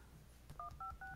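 Keypad dial tones on an iPhone 5C running iOS 7, three short paired beeps in quick succession, faint and close, with no talk over them.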